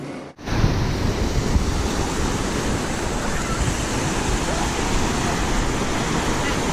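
Surf rolls steadily at a rocky beach with high waves, a loud continuous wash with wind buffeting across the whole stretch after a brief quiet start.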